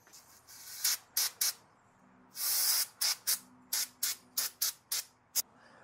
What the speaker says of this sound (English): I'm cleaning everything up as well as possible with brake clean